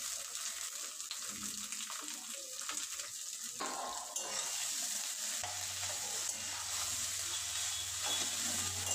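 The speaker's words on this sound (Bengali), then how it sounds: "সবজিগুলো ভেজে নেব।" Carrot and other vegetables frying in a pan for vegetarian pasta, with steady sizzling, occasional stirring scrapes and a low hum entering partway through, close and continuous.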